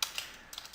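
A few quick keystrokes on a computer keyboard typing letters into Photoshop, light close clicks spaced in two or three small bursts with no voice.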